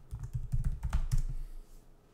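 Rapid keystrokes on a computer keyboard as a password is entered on an Arch Linux system, a close, steady burst of clicks lasting about a second and a half before tapering off, with no talking.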